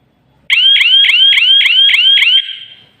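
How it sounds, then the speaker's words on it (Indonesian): Loud electronic alarm from a cheap DC motion sensor module, sounding seven rapid repeated rising chirps in steady rhythm, close and piercing, then cutting off into silence. "Nih, alarmnya seperti ini bunyinya."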